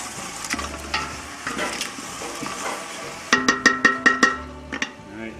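Creole seasoning being stirred into a spaghetti sauce mixture for meatballs and sausage, with a soft sizzle and scraping strokes followed by a run of sharp, rhythmic spoon knocks against the pot.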